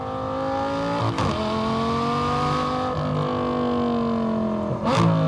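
A modified Lamborghini Gallardo LP560-4 with its V10 revving hard, a loud close engine tone climbing steadily through the gears, broken by brief shift dips, with no speech.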